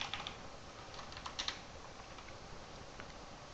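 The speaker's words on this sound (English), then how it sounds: "When you press a letter and the computer understands the letter, like here." Quiet taps on a computer keyboard, a few soft irregular keystrokes clustered early, then sparser clicks over a low room hiss.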